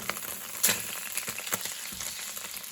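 A flat iron steak sizzles and crackles steadily in a hot pan after being flipped, with sharp pops and spits breaking through a dense, close frying hiss.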